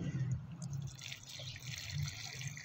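A hand shower gently waters rose cuttings set in sand, giving a soft, quiet trickle and patter of water that runs steadily throughout.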